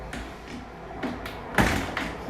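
A window shutter is hung on its hinge on a building site, with a few light knocks and a sharper clunk near the end, all close and brief.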